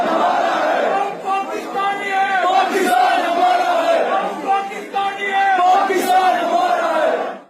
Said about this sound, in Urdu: سری نگر میں محرم الحرام کے ایک جلوس کے دوران پاکستان کے حق میں لگائے گئے نعرے ہیں